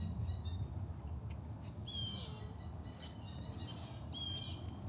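Several harsh squeaky calls and whistles of grackles ring out at a distance over a low steady rumble of background noise, at sewage lagoons in Loxahatchee, Florida.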